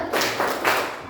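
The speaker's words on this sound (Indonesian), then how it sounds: "Kita coba dulu. Tepuk semangat." Group spirit clap in a classroom teaching session, a few sharp claps in a quick rhythmic burst, close and fairly loud.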